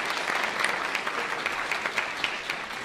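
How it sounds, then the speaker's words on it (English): Audience applause fills a university lecture hall at a live political talk event, a steady wash of many hands clapping at moderate volume for about three seconds with no speech over it. "A round of applause for them because I appreciate it."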